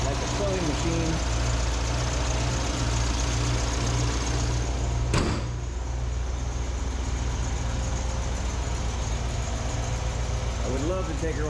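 A fuel-injected classic car engine settling into a steady idle after warm-up, a continuous even hum close by with a brief clunk midway, and a voice talking over it.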